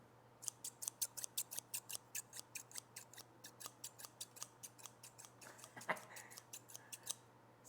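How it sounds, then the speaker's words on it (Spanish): Scissors cut steadily in a quiet room, a crisp rhythmic series of sharp snips, about three per second, close and clear, with a low steady hum underneath and no talking. "En este caso van a ser unas tijeras."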